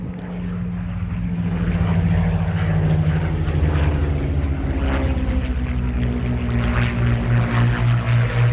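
A Supermarine Spitfire LF XVIe and a Curtiss Kittyhawk Mk1A fly a barrel roll at an air display. Their piston engines drone loud and steady, the propeller hum swelling and shifting pitch as the aircraft pass.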